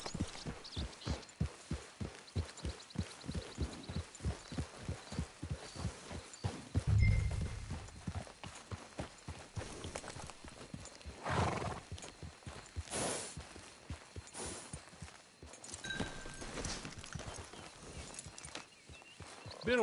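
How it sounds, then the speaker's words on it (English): A horse walks at a steady pace in the video game Red Dead Redemption 2, its hoof clip-clops rhythmic and clear. They slow and stop partway, then pick up again more softly. No whinny stands out. "Hitch your horse."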